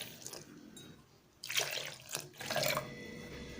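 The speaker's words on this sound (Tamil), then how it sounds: "தண்ணி சேர்த்துக்கலாம்." Water is poured into rava dosa batter in a kitchen, two short, faint splashing pours about a second apart over quiet background hiss.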